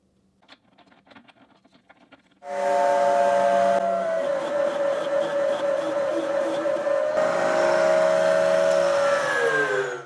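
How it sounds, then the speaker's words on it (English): After a few soft clicks and taps, a power drill with a larger bit pre-drilling bolt holes in wood starts up loudly with a steady high whine that holds for several seconds, dips briefly, then winds down. "now I'm switching to a bigger bit with which I can pre-drill the bolt hole"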